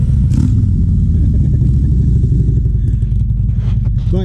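A motorcycle passes close by at a charity ride event, its engine loud and steady throughout with a slight change in tone near the end; a voice is faintly audible underneath.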